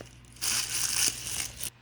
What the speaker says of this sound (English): And then I will crumple it up.